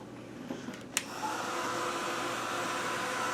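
A hair dryer starts up after a few small handling clicks, then settles into a steady, close blowing whoosh while drying an art card.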